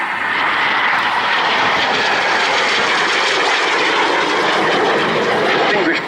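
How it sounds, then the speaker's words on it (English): A BAC Jet Provost jet trainer makes a high-speed pass at the Cosford airshow, a loud, continuous broadband jet roar that swells slightly toward the end, with no voices over it. "High speed in a Jet Provost is about 440 miles an hour."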